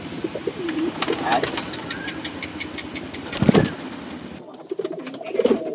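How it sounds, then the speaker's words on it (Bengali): Pigeons in a loft coo softly while eating, over a steady engine-like hum, with scattered pecking taps and brief rustling close by. "এই হলো আমার কবুতর। দেখেন খাবার খাইতেছে।"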